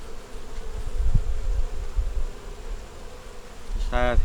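Honey bees at a deep nucleus hive that has been robbed out, leaving few bees and the queen, give a steady low drone throughout, with a brief louder buzz close by near the end.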